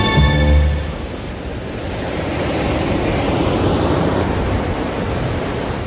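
Ocean waves roll onto Vichayito beach in Peru, a close, steady roar of surf with a brief louder tone at the start, no talking.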